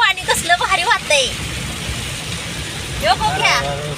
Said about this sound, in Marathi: लय डेंजर पाऊस पडतोय